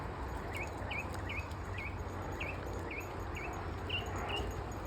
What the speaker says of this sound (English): Loving listening to the birds this morning. Wow, they've been singing.